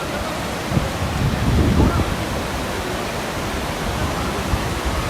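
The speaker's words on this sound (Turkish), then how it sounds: "Su acayip soğuk ve şuradan dere gibi bir şey yapıyor şöyle." Cold stream water rushing through Saklikent canyon in Fethiye, a steady broadband roar with a brief louder surge near the start, close and continuous.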